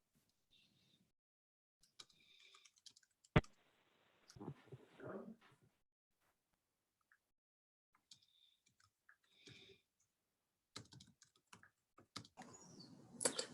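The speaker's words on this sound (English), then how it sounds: "I was typing an email" Typing on a computer keyboard at a virtual meeting: sparse, faint clicks and short bursts of keystrokes come close to the microphone, with long quiet gaps between them.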